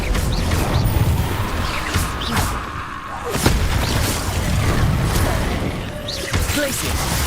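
Descendo spell effect in Hogwarts Legacy: a dense, loud barrage of whooshing magic, crashing impacts and booming thuds, with a brief dip before another heavy slam, all under continuous game sound.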